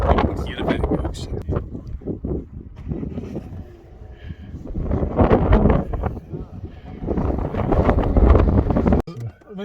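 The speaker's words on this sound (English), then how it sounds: "It's too windy. You can hear a bit of it." Heavy wind buffets the microphone outdoors at the National Museum of Flight, East Fortune, Scotland, in low rumbling gusts, nearly drowning out people talking underneath.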